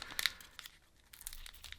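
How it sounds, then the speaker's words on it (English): Crinkly foil of a collector booster pack crackles and tears in short, close bursts with a quiet gap in the middle, as someone struggles to open it by hand without scissors. "And apparently opening the packs does not become any easier."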